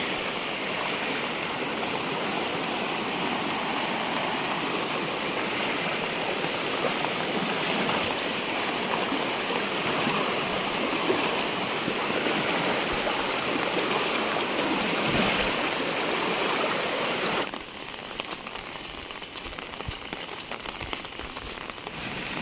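Clear forest stream in the Konkan woods, flowing during morning rain: a steady, dense rush of water close by that continues without break and softens slightly near the end.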